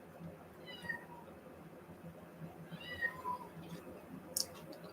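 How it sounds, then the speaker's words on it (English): Two meows from a cat, one near the first second and another around the third, faint and set against a low background hum, with a brief sharp sound near the end. "I heard your meow."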